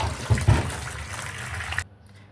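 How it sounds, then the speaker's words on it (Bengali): Running water splashes over raw mangoes as they are rinsed by hand, a short close burst of gushing and spattering that cuts off abruptly near the end. "আমটাকে ধুয়ে নিচ্ছি।"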